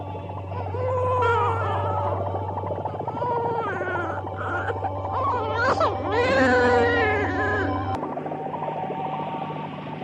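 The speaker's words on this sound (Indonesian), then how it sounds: "Lagi-lagi aku mendengar suara tangis bayi." An infant wails and whimpers in drawn-out, rising and falling cries over a steady low hum, part of a dramatized Indonesian audio story, with no speech over it.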